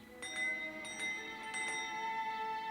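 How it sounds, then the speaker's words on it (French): A breakfast bell rings in clear, bright strikes, three or four metallic dings with long ringing tails that hang over a quiet room, alone without any voices. "C'est la cloche du petit déjeuner."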